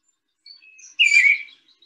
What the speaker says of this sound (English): Okay, that's the eastern bluebird.